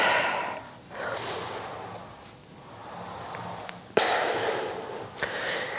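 Strong, audible breaths from someone working through an intermediate-to-advanced Pilates reformer exercise, several rushing inhales and exhales rising and falling close by, with no talking.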